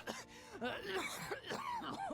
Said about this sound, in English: Oh, just a cough.